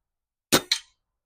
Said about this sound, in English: So we'll do 5 shots with the Falcon Prairie BM, see over the chronograph and see what we get.